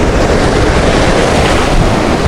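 Strong, steady wind roars across the microphone at a shore-casting fishing spot in the Philippines, a dense continuous rush with a deep buffeting rumble and no pauses.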